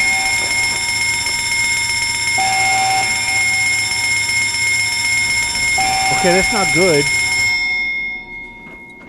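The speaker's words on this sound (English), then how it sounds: "There's a loud ass bell." A loud bell rings continuously in the Fallout London video game, a sustained metallic clang that persists for several seconds before cutting off, with someone talking over it.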